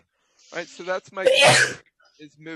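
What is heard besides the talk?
sneeze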